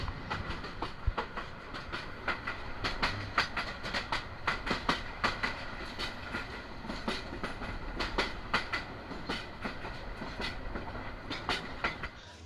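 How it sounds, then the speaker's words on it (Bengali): Teesta Express passenger train from Dhaka to Dewanganj crossing a bridge over the Shrutiya river, steady rhythmic clickety-clack of wheels over rail joints with a rumbling roll, loud and sustained. "এই শ্রুতিয়া নদীর উপর দিয়ে আমাদের কাঙ্ক্ষিত ট্রেনটি তার আপন গতিতে ছুটে চলেছে"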